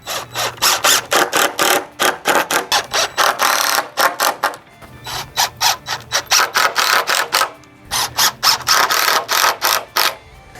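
Power driver sinking 2.5-inch screws into wooden studs during a chicken tractor build: repeated loud bursts of rattling, ratcheting whir, each lasting a second or two, with short pauses between screws.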